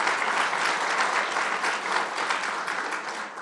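Sustained, dense applause from an audience at a public event honoring DA-elect Flynn, steady and loud throughout before tapering slightly at the end.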